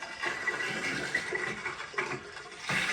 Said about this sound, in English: you get loads of air out and it'll split and splutter